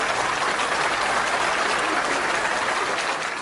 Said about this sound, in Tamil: நல்ல ஒரு உற்சாகமான கைத்தட்டு